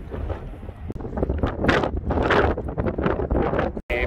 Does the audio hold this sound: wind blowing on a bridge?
yes